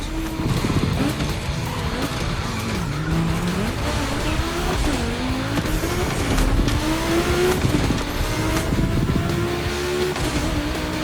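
Volkswagen race cars roar around a gymkhana course in The Crew Motorfest, engines revving up and down with shifting pitch while tires squeal and skid almost continuously, loud and close.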